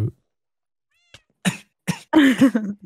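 A cat in the video game Minecraft gives a few short meows in quick succession, clear and close against near silence, the last one longer and more tonal.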